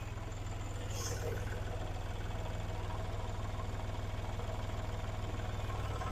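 A Kubota tractor fitted with a front-mounted snow blower idles steadily, a low, even engine throb pulsing continuously up close with no talk.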